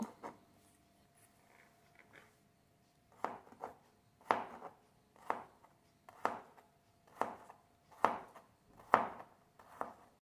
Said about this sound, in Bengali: এরপর প্রত্যেকটা স্লাইস থেকে আমি ছোট ছোট টুকরো করে কেটে নেব